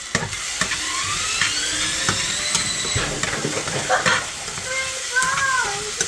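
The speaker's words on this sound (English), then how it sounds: "put it in a frying pan to fry it" Food frying in a pan while meatballs are being made at home, with a steady sizzle and intermittent stirring scrapes running continuously throughout, close and fairly loud.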